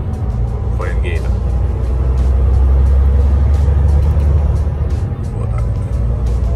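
Steady road and engine noise from a car cruising south toward Miami, loud and continuous with broadband tire rumble; someone talks over it throughout.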